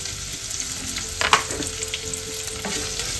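Red onion frying in a pan for a Filipino eggplant omelette and clam soup meal, giving a steady close sizzle with a few sharp scrapes of stirring.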